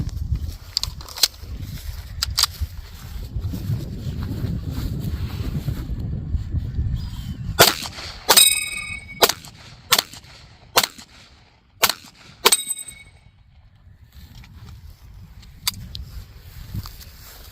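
A 1911 pistol, a Springfield Prodigy, fires about seven sharp, loud shots at steel targets in two quick groups, each crack followed by a brief metallic ring, after a stretch of low rumbling outdoor background.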